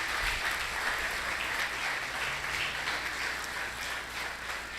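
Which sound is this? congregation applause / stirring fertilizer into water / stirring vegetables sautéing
congregation applause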